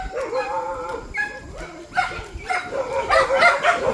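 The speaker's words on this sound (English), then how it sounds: "That's a dog fight." Dogs scuffle near a beach lodging in the Philippines, with whimpering, yelping and sharp barks in irregular bursts that grow busier and louder toward the end, fairly close.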